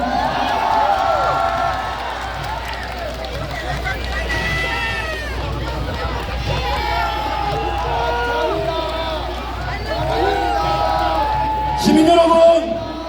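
A large outdoor rally crowd cheering and shouting to welcome a speaker, a steady roar of voices and whoops with scattered clapping, swelling into a louder burst near the end.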